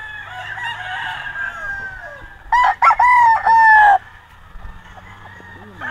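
Roosters at a gamefowl farm crow loudly and close by, with one long crow breaking over a quieter bed of farm clucking and background clatter.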